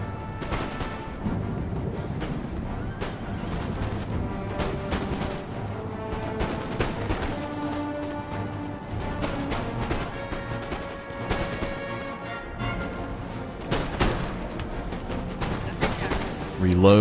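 Cannon and musket salvos in the Empire: Total War video game, with repeated sharp cracks and booms over continuous battle noise and game music, loud and dense throughout.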